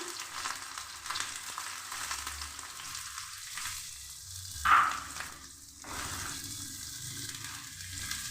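Chopped onion fries in mustard oil in a pan, a soft continuous sizzle with brief stirring clatter, a sharp clink near the middle, no speech.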